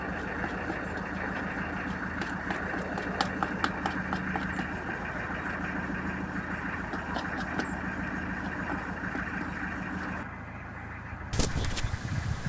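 A narrowboat's engine idles steadily with a low, even rumble and faint rhythmic ticking, heard close for most of the stretch before dropping away, then a brief louder burst of noise near the end.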